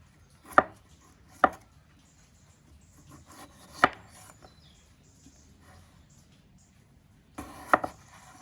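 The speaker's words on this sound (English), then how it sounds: "What we want to do is just cut them into chips." A knife chops raw potatoes into squares for chips on a board, with sharp isolated thuds spaced a second or more apart and a quicker pair near the end, close and alone.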